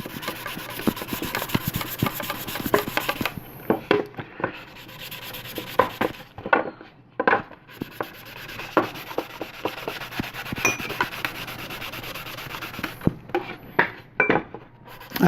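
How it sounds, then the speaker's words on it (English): Wet sanding filler primer on the top of a 1/8-scale Black Moth Heavy model, a steady close rubbing scrape in repeated strokes with brief pauses between passes, no talking. "wet sand this top a little bit."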